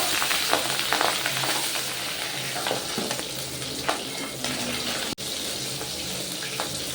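Pabda fish frying in a pan, with a steady, close sizzle and crackle of hot oil and occasional stirring scrapes throughout.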